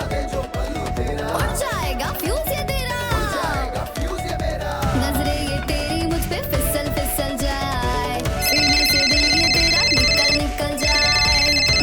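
An electronic phone ringtone chirps in steady repeating tones near the end, rising over loud, busy song music that plays throughout.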